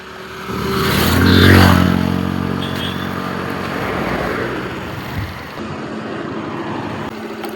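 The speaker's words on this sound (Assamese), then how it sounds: "মায়ে গমেই নাপায় বাইক আহিছে" A motorbike engine rises from a distance to a loud, close pass, then recedes into a steady fainter drone with a bit of background noise.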